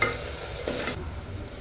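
Red chili powder and turmeric sizzle in a hot pan of dal khichdi base, a steady close frying hiss with a brief stirring scrape partway through and no talk.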